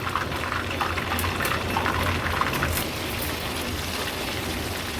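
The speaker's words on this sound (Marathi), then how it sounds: "आता अशाच पद्धतीने उरलेले सर्व प्रॉन्स आपण तळून घेऊया" Prawns koliwada deep-fry in hot oil, giving a steady, dense sizzle with soft bubbling crackles. The sound is close and even throughout, with no voices.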